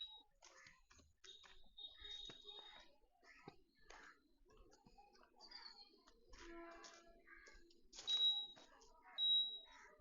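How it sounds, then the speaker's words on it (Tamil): A smart blind stick's buzzer gives short, sharp electronic beeps, including two clear louder bursts near the end, mixed in with talking and light clicks. "பஸர் பீப் வந்து நான் ரைட் திரும்புகிறேன்."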